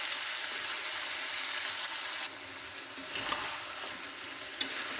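Chicken pieces sizzle in a hot pan while being stirred and sautéed, a continuous close frying hiss broken by a few scraping stirs, no voices.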